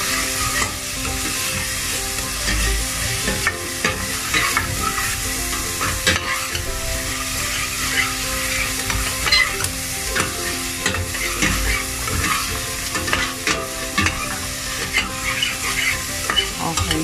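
Ingredients for a leftover Christmas ham carbonara sizzle steadily in a hot pan while they caramelize, with a dense, continuous frying hiss and occasional stirring scrapes, loud and close.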